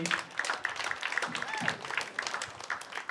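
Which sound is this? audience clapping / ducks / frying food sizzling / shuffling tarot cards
audience clapping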